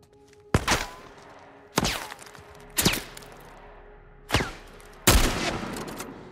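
Five loud, sharp gunshots ring out at irregular intervals, each with a short echoing tail, from gunfire in the video game The Last of Us.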